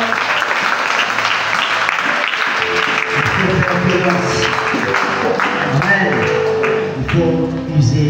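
A church congregation applauding loudly to acclaim the Lord, dense steady clapping from a crowd that carries on throughout, with voices and cheers mixed in.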